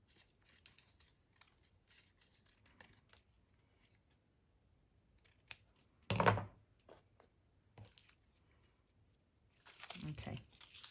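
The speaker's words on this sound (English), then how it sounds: "So I'm just going to cut a little circle out of that." Scissors snip a small circle out of paper during a craft session, a few soft quiet cuts and crinkles scattered through, with one sharper louder snip in the middle and rustling near the end; a voice talks softly at times.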